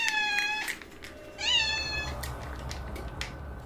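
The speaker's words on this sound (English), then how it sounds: "The cat is going crazy." A house cat meowing indoors in a kitchen, a couple of loud, close, drawn-out yowling meows over a low background hum.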